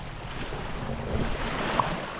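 Sea waves wash along a beach under a steady wash of wind noise, with soft, continuous surf at moderate distance and no talking.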